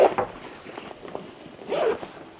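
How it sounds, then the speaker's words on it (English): A zipper pulled along a backpack-style emergency bag, steady rasping strokes close up with brief pauses between pulls, no talking. "And this one zips the bag pretty much in half"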